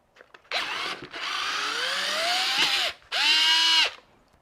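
A Fanttik electric screwdriver whirs in close bursts while backing out a stuck screw, its motor pitch rising and bending under load, with short pauses between three runs.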